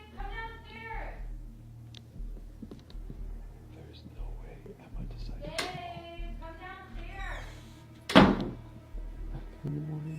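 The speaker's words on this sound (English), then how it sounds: "there's the repeated sound of a door being slammed shut" A house door slams shut repeatedly, a few dull thumps spread across the stretch and one sharp loud bang near the end, among soft whispering voices in a home.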